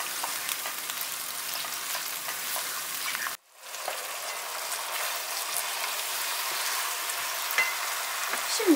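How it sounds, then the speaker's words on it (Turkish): Onions and peppers with pepper paste frying in a pan, a dense continuous sizzle close up, with faint stirring scrapes; the sound cuts out briefly partway through, then resumes as before. "Kavrulan soğan ve biberlerin üzerine bir yemek kaşığı biber salçası ekliyorum. Salçanın kokusu çıkana kadar karıştırmaya devam ediyorum."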